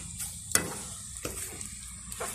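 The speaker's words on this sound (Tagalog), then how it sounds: "So konting prito na lang yung gagawin natin dito guys." Boiled tocino, cured pork, frying in a pan, with a faint sizzle and a few soft clinks and stirring scrapes spaced through a short, quiet stretch.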